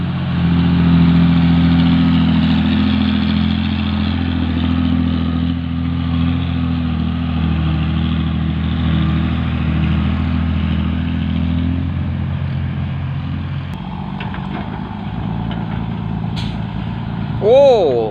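Hino dump truck engine running steadily at a desilting pond dig site, a loud close diesel drone with a low rumble that eases and shifts near the end, with a brief squeal at the close and some speech nearby.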